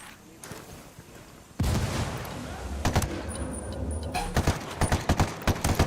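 Gunfire in the video game Ghost Recon Wildlands: after a quiet opening, a loud burst of firing and an explosive thump start near the two-second mark, followed by a dense run of sharp shots and cracks in the later seconds.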